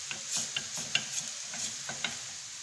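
Garlic and tomatoes fry quietly in a pan with a soft sizzle, while a spoon stirs them in a series of light, irregular scrapes and taps.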